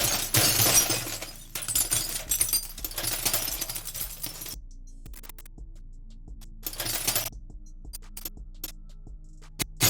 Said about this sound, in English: And some more glassy, clinky sound pieces.